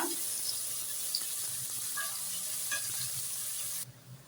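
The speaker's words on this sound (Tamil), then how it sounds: "வெங்காயம் வந்துட்டு நல்லா வதங்கி வரட்டும். நல்லா பொன்னிறமாக வரணும், அந்த அளவுக்கு வதக்கி எடுத்துக்கோங்க." Onions sautéing in a pan, a steady close sizzle with a few soft stirring clicks, cutting off abruptly near the end.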